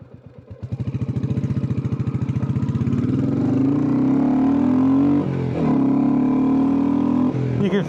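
A Royal Enfield Classic 350 single-cylinder motorcycle thumps at idle with distinct pulses, then pulls away and holds a steady, loud, near engine drone while riding, with a brief dip in revs near the end.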